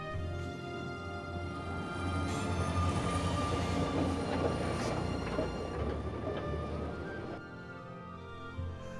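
Union Pacific Big Boy steam locomotive rolling along the tracks, a steady, broad rumble of heavy rail movement that holds at close range and then eases slightly near the end.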